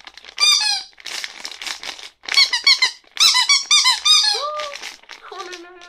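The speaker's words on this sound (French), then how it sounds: "un petit sachet comme ça, avec plein de jouets Pouit Pouit que Yumi adore" Rubber squeaky dog toys squeezed repeatedly, a run of sharp, high, bouncy squeaks in quick bursts with brief pauses, close and fairly loud, with slight plastic crinkling between presses.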